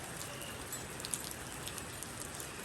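Light morning rain falls steadily outdoors as a soft, even hiss with scattered faint drips, quiet and continuous throughout with no one talking.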